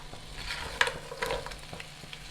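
Crab pieces, legs and body separated, are stirred in masala in a pan for a crab pepper fry, giving a few close scraping stirs over a soft, steady sizzle with no talk.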